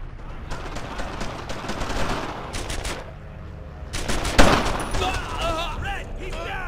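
Gunfire crackles in the World War II video game Brothers in Arms: Earned in Blood, with bursts of rapid automatic fire, scattered single shots and one loud close blast, while voices shout in between.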